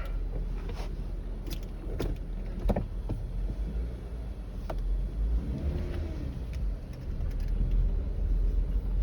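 A Jeep Wrangler is test driven to bed in new rear brake pads, heard from inside as a steady low road and engine rumble with a few small knocks and rattles. Nobody speaks.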